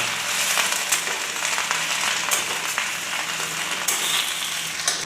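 Odia saga, drumstick leaves, frying in a pan with a loud, continuous sizzle and spitting crackles, occasional sharper pops and stirring clatter throughout, no voices.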